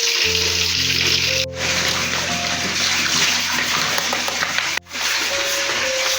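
Water gushes steadily onto the floor of a mosque ablution area during cleaning, a loud, continuous splashing rush with two brief breaks in the flow, close by and with no talking.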